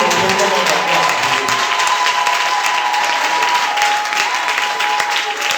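A church congregation claps and cheers to acclaim Jesus, a loud, dense, continuous wall of applause with voices shouting within the crowd, steady throughout.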